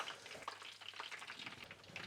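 A pork cutlet fries in a pan for katsudon, a soft, steady crackle of oil with scattered small pops at low level and no voices.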